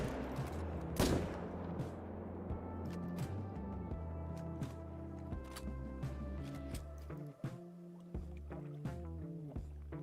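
Rifle shots fired at fallow deer in the Call of the Wild hunting game: a single sharp report near the start, then a few fainter shots over a steady ambient bed of low hum and scattered clicks.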